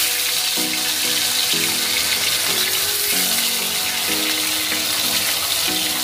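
Bhetki fish pieces frying in hot oil in a pan, a loud, continuous hissing sizzle with bubbling, steady throughout with no talking.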